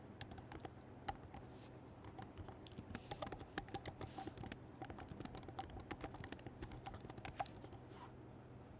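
Steady typing on a computer keyboard while entering ad headlines, a continuous patter of quiet, close keystrokes with no one talking.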